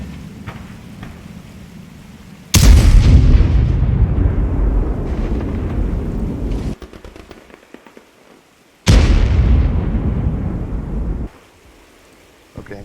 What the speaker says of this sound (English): You'll also be able to hear noises, explosions, rounds going off in the distance.